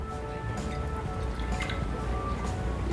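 Apple cider vinegar pours through a funnel into a spray bottle, a quiet, close trickle with faint drips and liquid ticks over a low background hum.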